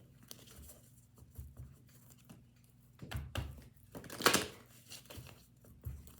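Tarot cards are shuffled by hand in soft, irregular papery flicks and pattering, with the busiest riffling in the middle and a louder snap near the end.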